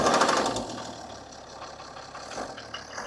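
A BMW 430d diesel engine with a major fault runs rough, a steady close mechanical clatter with irregular knocking throughout, louder at the start.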